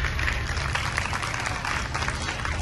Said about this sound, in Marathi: तर त्या शिक्षकांसाठी जोरदार सगळ्यांनी टाळ्या वाजवा